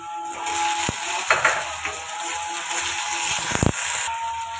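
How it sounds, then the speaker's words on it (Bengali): Black mustard seeds spit and sizzle in hot oil in a pan, a steady, close frying hiss with a few clinks of a utensil against the pan and no talking. "এখন কালো সরিষা দিয়ে দিলাম। সরিষাটা একটু ভাজা হলে"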